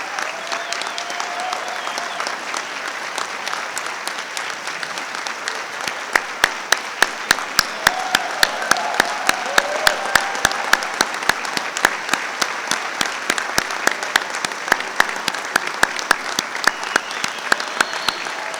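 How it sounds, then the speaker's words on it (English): A concert band audience applauds steadily for a long stretch, a dense wash of clapping with some louder individual claps standing out near the front. "Let's give him a big round of applause."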